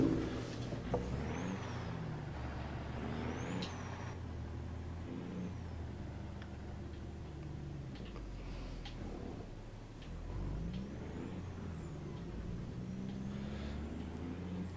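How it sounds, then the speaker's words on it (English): Truck engine in Euro Truck Simulator 2 drones steadily at a low pitch throughout, with revving rises and gear shifts, plus faint ticking and small clicks layered on top. "this truck sounds like kind of terrifying, but also kind of cool"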